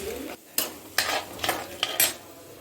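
Mixed vegetables, including cauliflower and tomato, being stirred in a hot pan, giving several distinct scraping and clattering strokes with a light sizzle between them, close and alone without talk.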